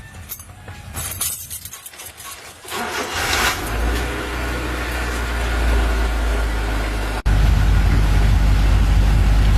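A 1996 Honda Civic engine cranks and catches after some clinks and rustling, then settles into a steady low idle hum that jumps abruptly louder near the end.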